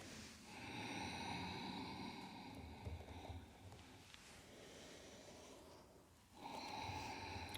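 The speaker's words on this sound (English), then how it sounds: "use Ujjayi breath, the snoring sound on your exhale" Ujjayi breathing during a full-body yoga flow, slow audible breaths with a soft snoring-like rasp on the exhale, quiet and close, in a few long cycles with a brief pause before the last.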